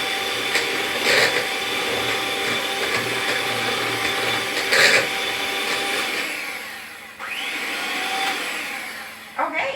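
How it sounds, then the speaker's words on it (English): An electric whisk runs on high through Yorkshire pudding batter, giving a steady loud motor whir with a rattling beater tone. It dips briefly and picks up again before the end. "So 2 minutes on a high whisk."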